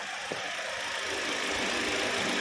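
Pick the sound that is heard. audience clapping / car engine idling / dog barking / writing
car engine idling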